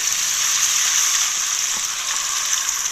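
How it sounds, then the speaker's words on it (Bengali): Potatoes and tomatoes frying in a pan make a continuous, fairly loud close sizzle, even and unbroken for the whole stretch with no talk. "টমেটো আর আলুটা ভালো করে ভেজে নেব"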